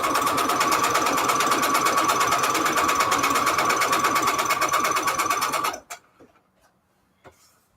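A sewing machine stitches through paper envelopes with a loud, fast, even mechanical chatter running steadily for several seconds, then stopping abruptly, leaving a few faint clicks and handling sounds.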